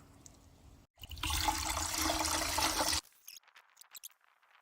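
Water gushes loudly into a bucket for about two seconds to bring an iron mixture up to ten litres, then drips and trickles faintly after the flow stops.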